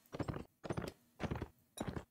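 Horse hooves from riding in Mount & Blade: Warband, four quiet, evenly spaced bursts of clip-clopping footfalls with a thudding tone, steady like a canter, no talk.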